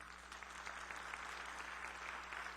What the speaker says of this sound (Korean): 박수로 환영해 주시고.